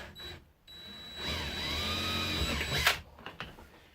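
A small drill bit bores a pilot hole during installation of an air con delete adapter, a brief whirring burst that rises, holds for about a second and a half, then cuts off, followed by faint clicks.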